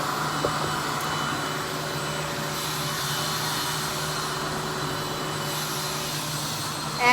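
A RevAir hair dryer runs steadily throughout, a continuous broadband whooshing roar with a faint motor hum, close and constant for the whole stretch with no talking over it.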